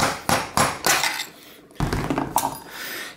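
Metal tapping inside a bicycle fork steerer tube to knock a star fangled nut loose: several sharp, ringing clanks and knocks at irregular intervals, close and loud.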